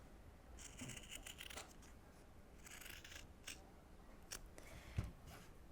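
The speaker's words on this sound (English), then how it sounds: "And now you can just trim away the excess in those corners" Scissors trim excess sewing fabric and interfacing at the corners of a pair of sailor pants, a run of quiet close snips and crisp cuts spread across a few seconds.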